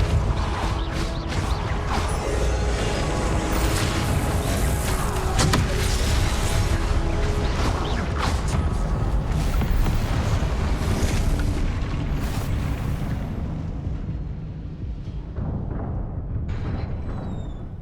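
Continuous loud rumbling blasts and crashing debris from Confringo spell explosions in the video game Hogwarts Legacy, a dense sustained roar that thins out near the end.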